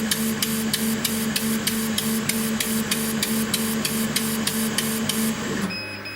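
Laser engraver in RDWorks running a 0.5 mm pitch test at 100 mm/s, giving a steady machine hum with regular rhythmic ticks as the head sweeps back and forth, loud and continuous until it stops near the end.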